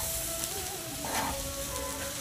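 Curry leaves tossed into a hot pan for puliyinji, a dense steady sizzle of frying with a brief louder crackle burst midway and a faint tonal hum underneath, no voices.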